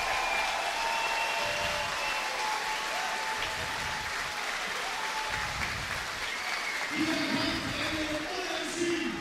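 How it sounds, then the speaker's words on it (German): An audience at a boxing event applauds both fighters with sustained, fairly distant clapping and crowd noise, while a voice speaks over it near the end. "Applaus für beide."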